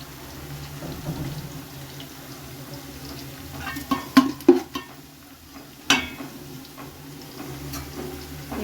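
Onions and green chillies sautéing for chicken biryani give a quiet, low sizzle, broken by a few sharp clanks and scrapes of a spoon against the pan.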